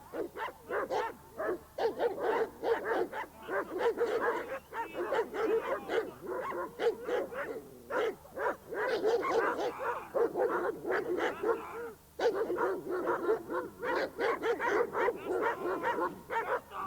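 Trained police dogs bark in rapid, repeated bursts, several dogs overlapping in a continuous, fairly close chorus of barks and yips with only brief pauses.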